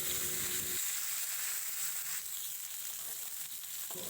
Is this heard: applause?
no